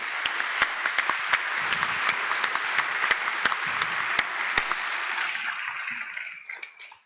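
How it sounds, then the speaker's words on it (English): A conference audience claps for its program committee, a broad wash of applause with a few sharp, louder individual claps standing out, sustained for several seconds before thinning and fading out. "So give them one more applause."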